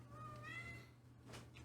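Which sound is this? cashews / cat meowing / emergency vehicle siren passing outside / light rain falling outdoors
cat meowing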